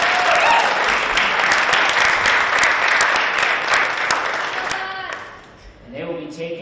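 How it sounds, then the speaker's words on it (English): Loud, dense applause from an audience at a high school esports league grand finals, steady for about five seconds before tapering off, with a few voices audible near the end. "Let's give them one more round of applause."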